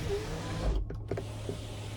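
A 2019 Chevrolet Impala LT sunroof slides back with a brief, smooth motor whir over a quiet cabin hum.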